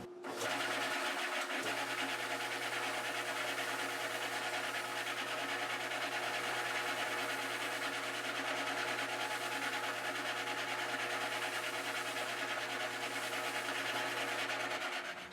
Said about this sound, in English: So I do this job on the radius disc sander for the drill press. The reason I do that is it rotates at 300 RPM, pretty slow.